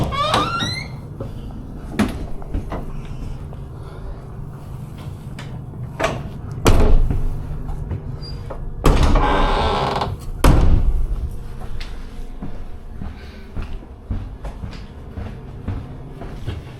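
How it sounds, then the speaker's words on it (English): Stiff sliding doors on a London Underground Piccadilly Line train bang and rumble in several heavy bursts, with mechanical clunks and low cab hum between them, close by and without talk. "Oh god, these doors are stiff."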